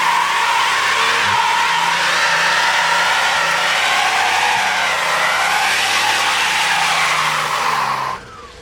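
Tires spin and squeal in a sustained, loud burnout from a car, likely a 1980s Buick Grand National turbo or a modern family SUV, with a steady engine roar underneath for about eight seconds before cutting off abruptly.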